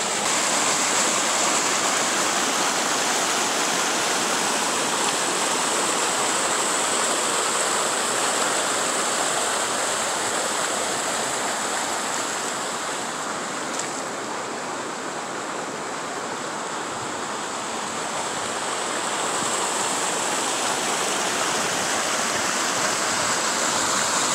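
Spring water rushing steadily over rocks at a boiling spring in the Ozark Mountains of Arkansas, a loud, continuous close-up wash that dips slightly midway and carries on with no talking.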